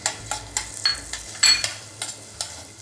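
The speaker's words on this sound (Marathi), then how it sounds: "कांदा थोडासा परतून झालेला आहे" Chopped onion sautés in butter in a pan for broccoli almond soup, a quiet sizzle broken by a regular series of sharp stirring scrapes and a few clinks of a spoon against the pan.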